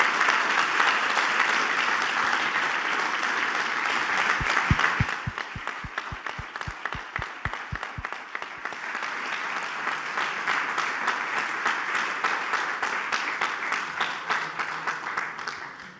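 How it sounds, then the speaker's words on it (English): Applause from a conference audience, a full crowd clapping steadily, with a brief run of sharper rhythmic claps partway through, then settling back into a sustained, even ovation. "So big applause because it looked streamlined"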